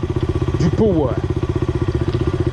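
A scooter engine runs steadily with a pulsing, buzzy note, loud and close, throughout the short stretch. A brief rising whine cuts across it partway through.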